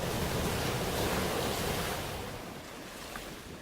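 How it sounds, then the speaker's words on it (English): Pacific Ocean waves pound on the shore in a continuous, fairly soft roar of surf that slowly eases off toward the end. No voices are heard. "We are lulled into sleep with the pounding of the waves"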